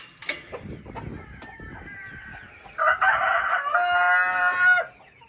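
Chickens and a rooster by a dry coop, with scattered clucking and soft farmyard sounds before a loud, close rooster crow that lasts about two seconds near the end.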